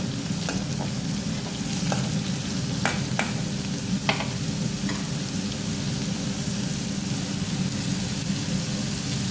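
Raw mango palya frying in a pan, a steady close sizzle with occasional sharp clicks and scrapes of a spoon stirring through it, no talking.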